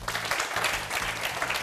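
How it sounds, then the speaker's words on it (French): Audience applause greeting a guest on a French-language youth television programme, a brief dense burst of clapping over low steady rumble. "je vous demande de l'applaudir très fort"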